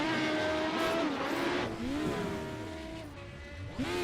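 A race car in the iRacing simulator, stuck in neutral, revs up and down repeatedly with a buzzy engine note that climbs and falls in sweeping surges, heard fairly close and alone.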